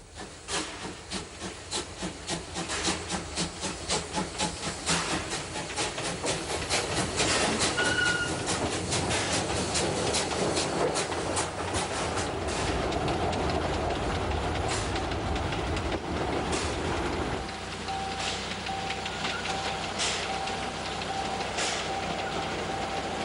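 An Appenzell Railways locomotive hauls a special summer excursion train on the Gossau to Wasserrauen line, giving a long, steady rumble with rhythmic clickety-clack of wheels over rail joints and a faint hiss, heard close and continuous.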